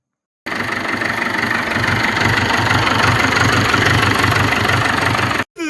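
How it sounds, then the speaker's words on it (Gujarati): A tractor engine runs steadily just after being started, a loud, close, continuous low idling rumble with a rhythmic knock, cutting out briefly near the end. "ટ્રેક્ટર તો થઈ ગયું ચાલુ"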